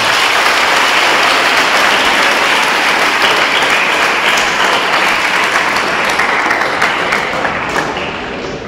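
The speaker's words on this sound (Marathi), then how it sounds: "त्या पहिल्यांदा आपल्या मायमाऊली मराठी भाषेसाठी एकदा जोरदार टाळ्या वाजवा" A lecture audience applauds loudly and steadily for the Marathi language, dense continuous clapping filling the hall for several seconds before easing slightly at the end.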